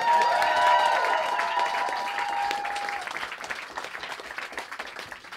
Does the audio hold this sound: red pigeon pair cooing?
no